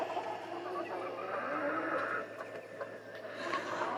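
Buff Laced Polish chickens cluck and murmur in a coop or barn enclosure, a busy low chatter of several birds heard fairly close under a steady background hum, without talk.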